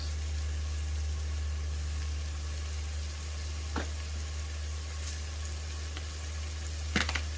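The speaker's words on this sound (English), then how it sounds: "We'll just saute this so it becomes fragrant." Aromatics sauté in a pan for crab ginataang, a steady, fairly quiet sizzle under a low constant hum, broken by a couple of faint utensil clicks.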